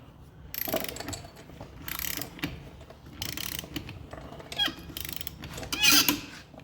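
A ratchet wrench with a 19mm socket tightens car wheel lug nuts, heard as about six close, distinct bursts of rapid mechanical clicking with short pauses between them.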